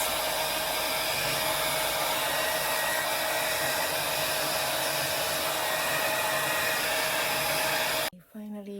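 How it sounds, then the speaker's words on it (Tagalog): A hair dryer blows steadily and loudly up close while drying hair, a constant whooshing roar that cuts off abruptly near the end. "Na blow dry ko na siya."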